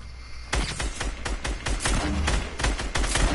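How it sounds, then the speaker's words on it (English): Gunfire crackles through a battle royale video game fight in sharp repeated shots and short bursts, fairly loud and close, after a brief quieter lead-in. "I'm shooting down"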